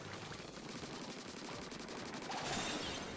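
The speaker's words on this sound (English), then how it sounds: "Missiles away." Splatoon missiles launch in a rapid rattling barrage of repeated pops over busy game noise, growing denser and louder toward the end.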